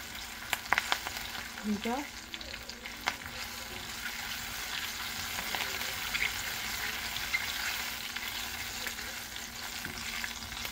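Curry leaves fry in hot oil with a steady, soft, even sizzle and a few light crackles near the start, heard at low level, with a brief spoken word over it.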